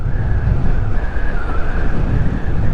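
A heavy vehicle rumbles past up close, loud low engine noise with a whining tone, steady for a few seconds.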